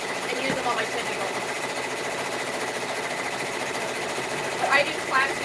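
A 10-needle embroidery machine stitching shirts gives a steady mechanical whir throughout, with two brief louder bursts of rattling near the start and end.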